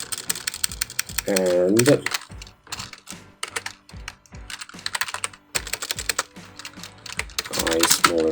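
Quick, irregular keystrokes from a computer keyboard clatter up close while C# code is typed, interrupted by bursts of speech between the typing runs.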